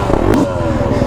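A Kawasaki KX450X four-stroke dirt bike engine revs close by for about a second. There is a throaty, rising burst with some mechanical clatter.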